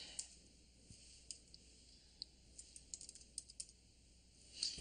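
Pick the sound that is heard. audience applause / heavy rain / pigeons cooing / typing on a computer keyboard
typing on a computer keyboard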